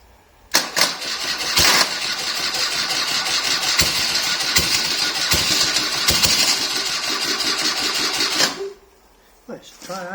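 A BMW R65 motorcycle engine cranks and then catches, running with a loud, close, rough idle for several seconds before cutting out abruptly, followed by a brief mechanical clatter.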